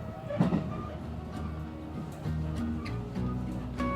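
Riding a Keikyu Line train from Yokohama toward Misakiguchi station, a steady low rumble fills the carriage with faint rhythmic track clicks and occasional knocks, no one speaking.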